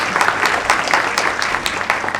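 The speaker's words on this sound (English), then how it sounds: "Okay, you can clap." Audience clapping at the inaugural event of a college fest, a steady broadband patter of many hands with uneven peaks, filling the whole short stretch with no voices over it.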